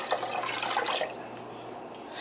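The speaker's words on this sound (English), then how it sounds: "And I'm putting 1 cup of apple cider vinegar with the mother." Apple cider vinegar with the mother is poured into a pot already holding white vinegar, making a close, splashy liquid rush that trickles off after about a second, with no voices.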